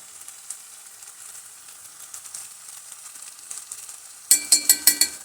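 A spoonful of desi ghee sizzles on hot dal with a soft, steady crackle, then five sharp, bright metallic taps ring out in quick succession at the end.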